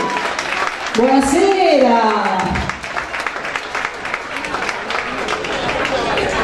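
An audience applauds at a group dance gala, a steady crowd clapping heard throughout, close and fairly loud, with a voice speaking a greeting over it near the start.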